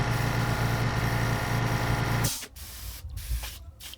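An airbrush loaded with black paint sprays onto a bluegill fishing lure, a steady hiss for about two seconds that stops abruptly, followed by brief handling noises.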